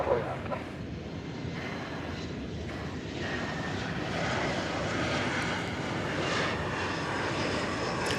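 An airliner engine roars at DFW Airport, a broad, steady rumble that swells slightly midway and holds at moderate distance, without speech.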